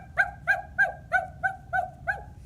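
A person imitates a dog's short bark, giving seven quick, evenly spaced yips in a steady rhythm. The voice is close and moderately loud, and nothing else is heard between the yips.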